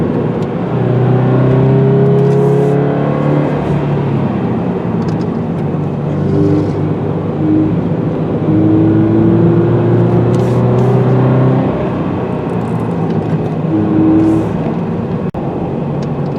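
A 2020 Toyota 86 Hakone Edition sports car is driven hard through corners, its engine droning loudly and continuously up close, with pitch rising and falling as it revs and brakes.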